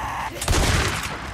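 Gunfire in the zombie survival video game Days Gone: a loud, dense burst of rapid shots rattles close by for about a second, with no one talking over it.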